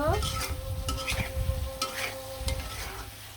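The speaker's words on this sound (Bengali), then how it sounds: "এখানে কিন্তু হলুদ মরিচ আর ধনার গুঁড়া দিয়ে দিলাম দিয়ে ভালো করে টমেটোগুলো কিন্তু আমি সুন্দরভাবে কষিয়ে নিব" Tomatoes with turmeric, chili and coriander powder fry in a pan, giving a dense close sizzle broken by repeated stirring scrapes and faint utensil clinks.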